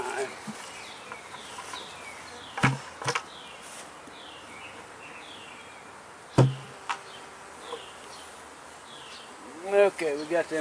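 Honeybees buzz steadily close by during a sugar shake mite count with a mason jar, under sharp knocks and taps from handling the hive equipment, with faint background talk.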